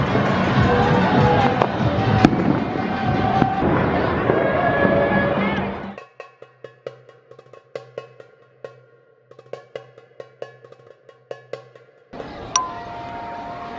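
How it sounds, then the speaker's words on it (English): Neighbours in India bang metal pots and pans during the pandemic lockdown, first as a dense, loud clattering din mixed with crowd noise and fireworks-like cracks, then as scattered sharp metallic clangs and rings from nearby and distant balconies. "Some people are banging on pots and pans."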